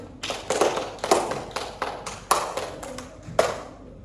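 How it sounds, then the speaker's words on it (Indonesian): Classroom applause for a student presenter, heard as sparse, uneven claps from a small group that rise and fade in loose clusters, fairly close and without talk. "Tepuk tangan untuk Mbak Fepti."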